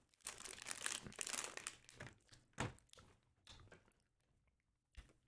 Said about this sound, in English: It's a plastic bag.